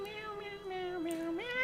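A person's voice imitates a cat's meow in one drawn-out, wavering tone that rises at the end, fairly faint and close, with no other talk.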